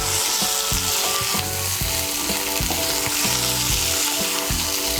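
Potatoes and cauliflower fry with spices in a hot pan, giving a steady loud sizzle, with stirring scrapes and clanks throughout.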